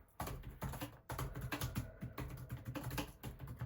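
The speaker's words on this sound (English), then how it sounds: "This is my ergonomic keyboard" Rapid, steady typing on an ergonomic computer keyboard, close and fairly loud, with dense clattering keystrokes that run without pause for the whole stretch and no voices.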